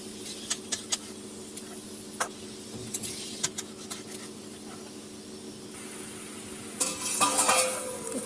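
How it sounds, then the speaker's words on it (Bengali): Chopped bottle gourd sizzles quietly in a pan while a utensil clicks and scrapes against the metal in scattered knocks, and the frying swells louder near the end. "কেটে রাখা লাউগুলো এতে দিয়ে দেব। তারপর একটু ভালো করে নাড়াচাড়া করে নেব।"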